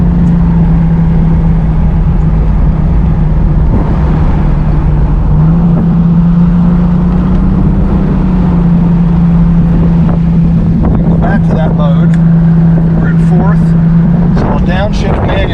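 A 1989 Jaguar XJS V12 drives along, its engine droning steadily with a gear change under strong wind and road noise, while someone talks throughout.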